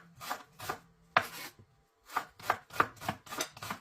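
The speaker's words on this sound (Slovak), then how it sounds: "Cibulu som nakrájal na väčšie časti." A knife chopping onion into large pieces on a cutting board for a chicken kebab, about ten sharp, close knocks in short uneven bursts with a brief pause partway through, and no talking.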